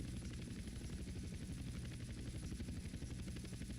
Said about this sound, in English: Don't pay any attention to the big helicopter flying around with an armored car.